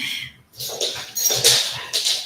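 A dog whimpers and yips in a few close, high-pitched bursts, with short whines rising and falling over about two seconds and no talking.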